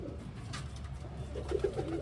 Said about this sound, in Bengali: এটা একটা নর হাউস পিজন আছে